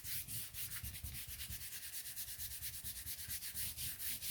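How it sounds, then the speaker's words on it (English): A tool rubbed lightly back and forth over paper to bring up a faint outline, a close, quiet scratchy rasp in a quick, steady rhythm of about six strokes per second, with no voices. "So I lightly rub over it, so it just gives me a faint outline."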